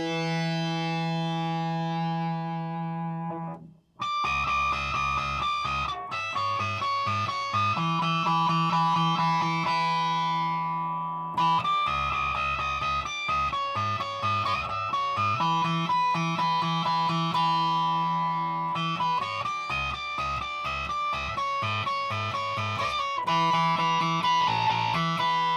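Electric guitar, a Stratocaster with single-coil pickups, played through a JAM Octaurus octave and effects pedal, ringing sustained chords and notes with distorted, echoing octave layers, loud and alone with short pauses between phrases.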